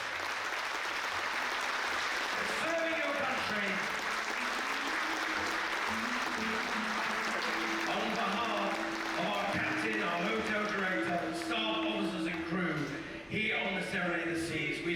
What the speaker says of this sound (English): please, a rapturous round of applause for every single one of our heroes